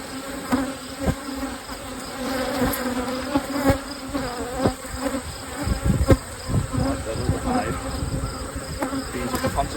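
A honeybee colony in an open hive filling its upper brood chamber with honey buzzes steadily and close, a dense insect drone with wingbeats whirring past and occasional frame knocks.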